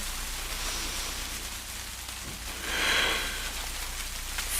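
Steady rain falls on the ground outdoors, a constant hissing wash of drops with a brief louder swell partway through and no voices.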